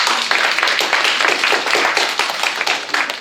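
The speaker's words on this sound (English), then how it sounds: "one round of applause" A room of workshop participants on healthy, future-proof neighborhoods gives a short round of applause: quick, dense, crisp claps, close and continuous for a few seconds.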